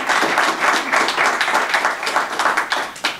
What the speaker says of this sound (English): I think we should give everybody, all the gentlemen, a round of applause for their efforts and dedication